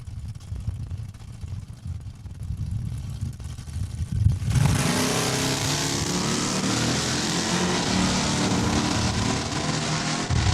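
A 2010 Dodge Charger drag car launching at Saskatchewan International Raceway, its engine roaring up abruptly into a loud sustained broadband blast after a lower idling rumble.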